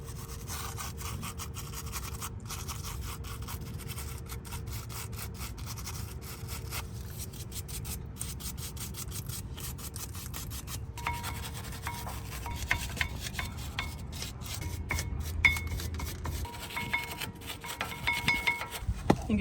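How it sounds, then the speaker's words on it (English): Steel wire brush scrubbing the front brake contact points on a 2003-2007 Infiniti G35, a steady close scratchy rubbing that grows louder and more uneven toward the end, with no talking. "use a steel brush and clean off all our contact points"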